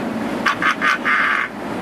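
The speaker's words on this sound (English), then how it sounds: "Quack!" Quacking duck call on a Boston duck tour, four nasal honks in quick succession with the last drawn out, loud and close over engine rumble.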